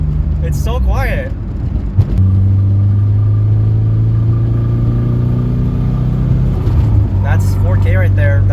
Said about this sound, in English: The exhaust in general is kind of loud.